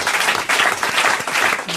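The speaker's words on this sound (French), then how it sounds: "on a applaudi Jérôme Bonaldi pour cette démonstration" A French television studio audience applauds in a short, lively burst of many hands clapping, loud and close.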